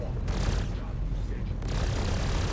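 A Shiv ship in the video game Star Citizen firing all its weapons at once, a dense, continuous roar of loud weapons fire with voices talking underneath.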